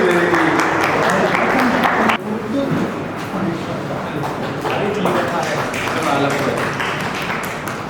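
Audience applause at a music award ceremony in Shri Dungargarh, a dense wash of clapping that drops in level partway through and carries on steadily, with voices audible under it.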